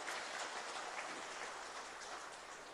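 An audience at a BJP meeting in Siliguri, West Bengal claps in steady, dense applause for party president Nadda, sounding faint and somewhat distant, with no speech over it.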